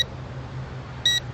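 An Eachine E520S drone controller gives one short, clear electronic beep near the end of its return-to-home alert, set against a steady low hum.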